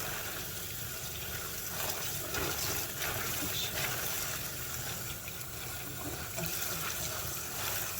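Spinach washed in a bowl of water, a continuous close sloshing and running-water wash that stays fairly even throughout, with no clear talking.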